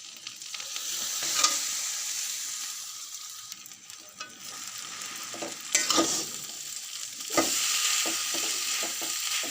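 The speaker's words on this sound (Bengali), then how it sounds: "এবার এটার মধ্যে আমি পাস্তাটা দিয়ে দিব।" Pasta tipped into a pan of fried ingredients and stirred, the steady sizzle of frying running underneath with sharp scraping strokes of the spoon at intervals, close up and with no talking.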